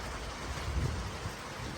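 A soft, steady hiss of rain falling continuously, faint and even with no other distinct sounds.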